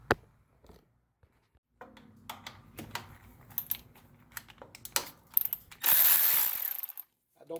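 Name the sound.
ratchet loosening a 12mm bolt on a Honda engine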